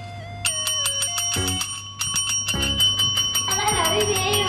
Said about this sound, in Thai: ถ้าอยากได้อะไรก็กดกระดิ่งติ๊งติ๊งติ๊งติ๊งเลยนะ